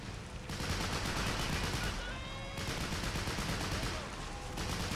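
Dense, continuous rapid gunfire in the WWII strategy video game Behind Enemy Lines 2 (modded), bursts overlapping into a steady roar, loud and close, with brief lulls between volleys.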